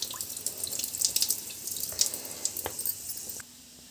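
Water runs from a tap and splashes into a sink of okra being washed, a close, busy spatter with drips that stops abruptly near the end.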